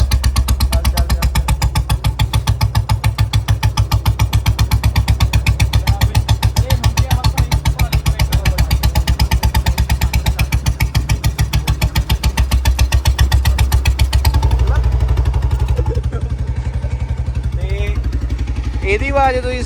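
An old-model Royal Enfield Bullet 350 Standard motorcycle runs in fourth gear with a loud, rapid, even thumping beat that carries on steadily, then shifts to a softer, rougher tone near the end.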